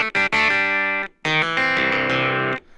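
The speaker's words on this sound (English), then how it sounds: "And now I've got all my parameters for that distortion effect." A Casio Privia PX-560 keyboard played through its distortion DSP effect, giving loud, buzzy, overdriven sustained chords with a couple of short stabs, then a longer held chord that cuts off.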